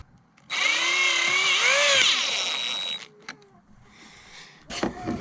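A power tool tightens a bolt on a radio, whirring loudly for about two and a half seconds with rising and falling pitch, then a short clunk and a brief rattle after it stops.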